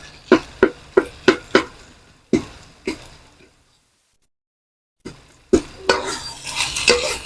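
Bitter melon and egg, with corned beef, being crushed and mixed in a pan: a rapid series of sharp metal clinks and scrapes from a utensil, a pause of silence, then more clinks and busier stirring and scraping.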